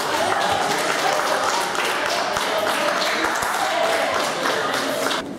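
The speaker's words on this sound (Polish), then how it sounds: "Brawa" Applause from a group of children and adults at a 2017 youth camp event in Sielpia for the winning teams, steady clapping that continues throughout and fades slightly near the end.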